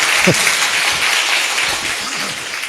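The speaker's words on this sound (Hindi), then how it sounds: "आपकी जो ताली है ना, बहुत कंजूसी वाली थी" A church congregation claps at a sermon, a steady wash of applause throughout, fairly loud, with faint voices underneath.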